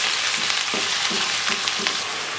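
Chicken leg pieces fry in a karahi for Pakistani chicken karahi, giving a steady, close, hissing sizzle with soft bursts of stirring throughout.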